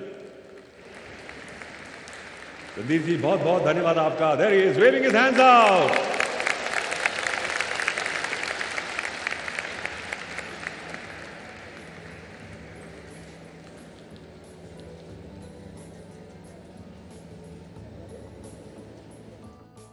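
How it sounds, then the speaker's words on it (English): Audience applause at a film festival closing ceremony, the 52nd International Film Festival of India in Goa, a burst of clapping that swells loudly then slowly fades into a lingering crowd murmur, with a host speaking over it. "Round of applause for him, ladies and gentlemen."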